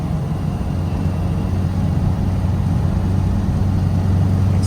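Ford Popular car engine accelerating on a village road in Leicestershire, a steady, loud mid-pitched drone that holds throughout with no talk.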